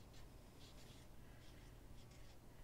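A marker or chalk writing on a board while a chemistry formula is explained: faint, soft scratchy strokes in short clusters over a steady low hum.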